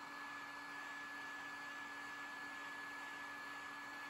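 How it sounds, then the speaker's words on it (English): Steady, even blowing roar of a heat gun running continuously while burning a wood cutting board through a reusable stencil, constant airflow hiss with a faint steady hum and no talk. "you have to keep that heat gun moving"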